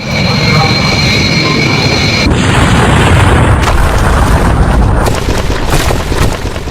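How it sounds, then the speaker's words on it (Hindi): Animated airplane crashing into a building just after takeoff, a loud sustained booming roar of jet engine and explosion with sharp bursts and a rumbling tail, close and dominant. "विमान जैसे ही टेक ऑफ करता है रनवे से आगे बढ़ते ही फौरन देखिए क्रैश हुआ, इमारत से टकराया"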